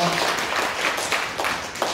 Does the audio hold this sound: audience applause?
yes